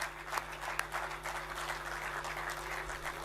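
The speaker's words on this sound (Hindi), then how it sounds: "एक बार आप लोगों के लिए जोरदार तालियां होनी चाहिए" An audience at a national poetry gathering on a campus breaks into a dense, steady round of applause, heard from a distance over a low electrical hum.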